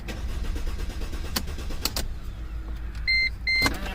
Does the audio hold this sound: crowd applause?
no